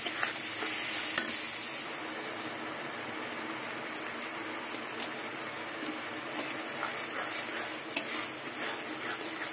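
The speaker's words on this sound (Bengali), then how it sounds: "মশলা কষাতে কষাতে তেল ছেড়ে দিয়েছে" Ground turmeric and chili being cooked down in oil for a silver carp curry: a continuous sizzle with scraping stirs and a couple of sharp clicks from a utensil on the pan, no voices.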